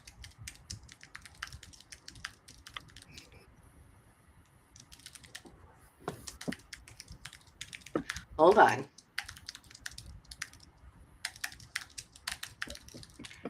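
Keyboard typing clatters in quick, uneven bursts through much of the clip, with a brief spoken remark and a louder knock midway.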